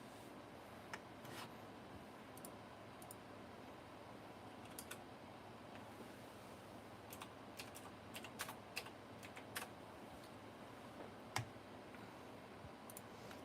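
Quick bursts of typing on a computer keyboard sound close and faint, with irregular clusters of sharp key clicks over a quiet room hum and no talking.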